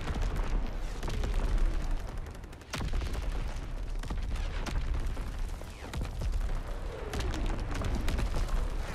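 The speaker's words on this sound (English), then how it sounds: "Incoming enemy artillery." Enemy artillery shells exploding repeatedly in a Call of Duty match, heavy booms and crackling gunfire layered into a constant loud battle din.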